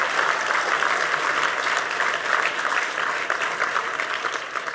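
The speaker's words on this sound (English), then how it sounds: "Let's give them a round of applause for really great work." A large audience at an evening program for NYC Outward Bound Schools applauds in a full, continuous roar of clapping that holds steady and eases off a little near the end.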